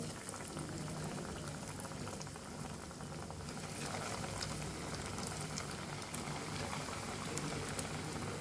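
Potato snacks frying in hot oil give a dense, continuous bubbling sizzle, steady and fairly quiet throughout.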